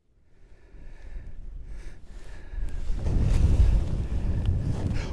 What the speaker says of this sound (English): It's windy right now, but it should calm down as the day progresses.